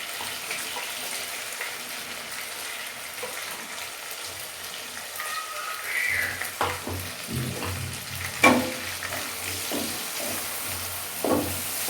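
Finely chopped onions sizzle and crackle steadily in hot oil, with occasional scrapes and stirring clatter from a spoon in the pan.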